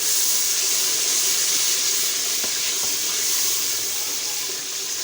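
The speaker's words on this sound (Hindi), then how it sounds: "थोड़ा सा पानी डाल के इसकी ग्रेवी बनाएंगे ताकि ये अच्छे से गल जाए" Steady hissing and bubbling from a pot as a little water is added to cooking turnip to make a gravy, a continuous close sizzle with no talk.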